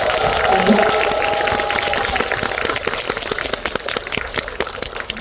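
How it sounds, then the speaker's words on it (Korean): Audience in a cinema auditorium clapping for two guests at a film Q&A stage greeting, starting under a host's talk and then carrying on alone as a brisk, steady clatter of many hands. "두 분께 박수 한번 부탁드릴게요"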